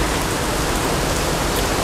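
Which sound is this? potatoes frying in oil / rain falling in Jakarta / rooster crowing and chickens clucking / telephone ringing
rain falling in Jakarta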